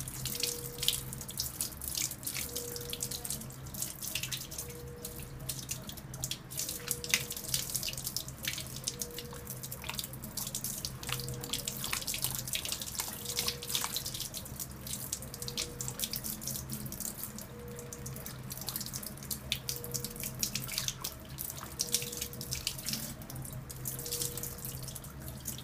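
Tap water runs steadily into a sink during hand washing at a newborn care centre, a constant close hiss with faint dripping and splashing throughout, no voices.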